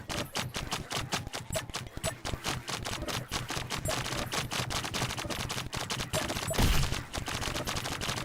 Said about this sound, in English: Just Wildcat bullets everywhere